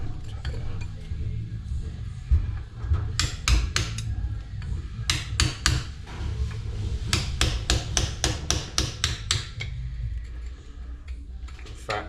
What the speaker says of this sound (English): Need a little hammer. Let me get a little hammer.